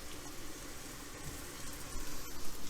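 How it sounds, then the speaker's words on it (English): Shrimp lightly browning in vegetable oil give off a soft, steady sizzle and crackle that holds at an even level, with no talking. "We'll go ahead and lightly brown the shrimp."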